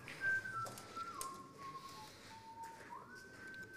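A referee's whistle blown at a pétanque semi-final, heard as a long sustained tone that glides slowly down and then jumps back up, sounding over low outdoor background noise.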